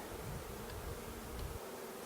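Honey bees buzz steadily at a hive during an early spring inspection, a dense, even drone with bees returning loaded with pollen, continuous and fairly near for about a second and a half before fading.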